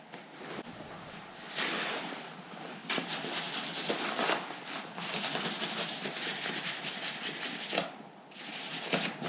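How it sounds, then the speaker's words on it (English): Reflective fabric is rubbed by hand, giving a soft, continuous rustling and scraping in uneven strokes that swell and fade, close up and fairly quiet, with no voices. "The sound of fabric. This is fabric."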